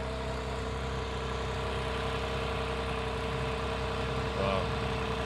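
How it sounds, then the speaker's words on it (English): A Porsche GTS pulls away at a cars and coffee meet, its engine a steady low rumble over outdoor crowd noise, with a brief swell near the end as it drives off. "Watching this GTS go now. Sounds absolutely stunning, doesn't it?"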